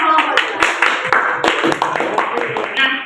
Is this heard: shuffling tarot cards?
no